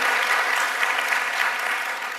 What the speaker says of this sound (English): I'll applaud that.